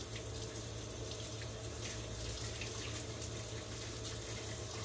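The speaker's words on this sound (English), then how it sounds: "I'll go ahead and get my hands washed off right quick." Hands being washed under a running kitchen tap make a quiet, steady stream of water with soft splashing and no talk.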